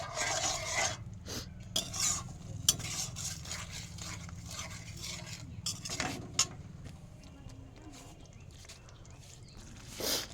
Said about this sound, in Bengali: এই মশলাটা কষাই নিচ্ছি।